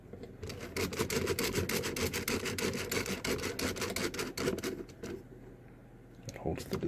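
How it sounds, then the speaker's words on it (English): A screw being driven back in during a car MyGig digitizer touch screen repair, heard as a close, steady rasping ratchet of rapid clicks that stops briefly before a few more turns. "we'll put our one screw"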